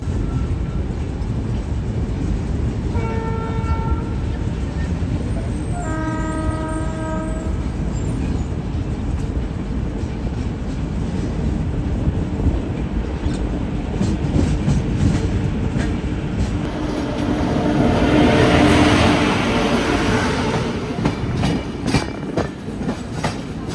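An Amritsar–Bilaspur Chhattisgarh Express hauled by a WP7 locomotive rolls past near Bhopal, a steady loud rumble with rhythmic wheel clatter, a horn-like tonal blast early on and a rising rush as the cars go by.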